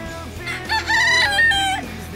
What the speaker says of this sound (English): We think he's a rooster because now he's crowing.